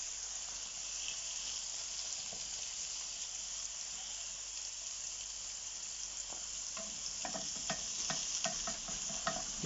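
Sliced courgette sizzles steadily in a hot pan while being stirred, the continuous frying hiss joined later by a run of light clicks and scrapes from the utensil moving it around.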